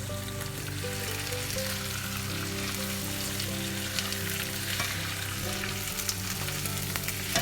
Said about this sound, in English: we're just going to put the chicken here, which we have just diced here